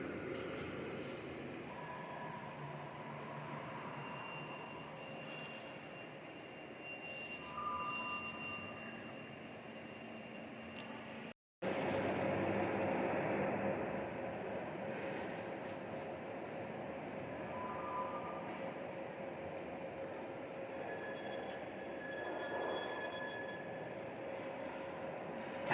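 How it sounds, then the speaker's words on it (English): Caltrain commuter train rumbling steadily throughout, a loud continuous rail roar with a sustained tone and brief break midway, heard from on or beside the train. "So that train is my train as well."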